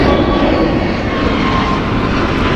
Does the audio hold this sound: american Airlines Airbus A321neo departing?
yes